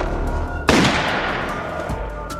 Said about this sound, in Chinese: 刚走没多久，他就听到身后传来刺耳的枪声